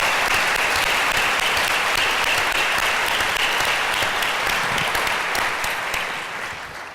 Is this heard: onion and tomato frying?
no